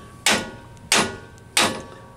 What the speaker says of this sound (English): So just take your hammers and just tap it out like that.